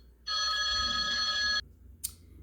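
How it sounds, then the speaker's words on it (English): A telephone bell rings once in a single sustained electronic trill lasting over a second, close and clear over quiet room tone, followed by a brief faint click. "I had a phone call"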